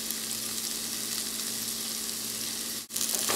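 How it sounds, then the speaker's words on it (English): Vegetables for egg fried rice sizzle steadily in a hot pan, a dense continuous frying hiss with faint stirring, broken by one brief dip near the end. "Mix it and cook it for 2 to 4 minutes"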